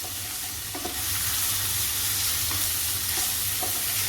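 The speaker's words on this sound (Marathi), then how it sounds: "चांगलं परतून घ्यायचं आहे लसूण" Chopped garlic and onion sautéing in a pan for garlic prawns, a steady close sizzle with stirring scrapes and a low rumbling hum running underneath throughout.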